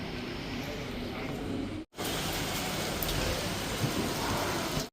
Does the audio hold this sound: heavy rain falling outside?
yes